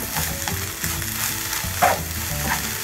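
Prawns, mushroom and chili powder sautéing in a pan for a Kerala theeyal, a steady close sizzle with scraping stirs and occasional clinks of the utensil against the pan.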